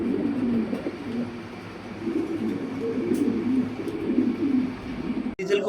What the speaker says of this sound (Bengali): এই যে দেখেন খুব সুন্দর একটা কবুতর।